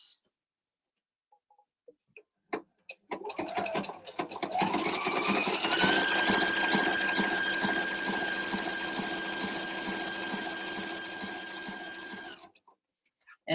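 A sewing machine runs an overlock stitch with a J foot, starting after a few soft clicks and then holding one steady, close whirring run for about eight seconds with a rising high whine before stopping.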